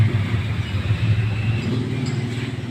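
Road traffic gives off a constant deep motor hum that stays close and even, with a slight rise in the higher hiss near the end.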